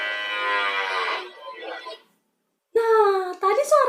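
A water buffalo lows in a long, loud call with a harmonic tone, trailing off into a rougher fading tail, followed after a short silence by a voice speaking.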